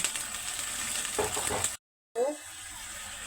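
Water hits a pan of fried chopped green chillies and ginger, giving a brief burst of hissing sizzle over a quieter background frying crackle, cut by a short dropout of silence before the sizzling returns.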